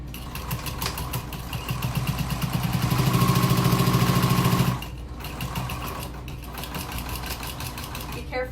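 A sewing machine stitches a seam on a vinyl tote bag with backstitching, its needle chattering rhythmically close up, speeding into a louder steady run before stopping and then resuming at a lighter pace.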